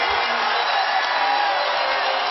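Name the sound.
standing ovation from sellout basketball arena crowd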